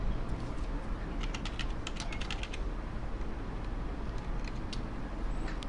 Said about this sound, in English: go to this icon and type the address here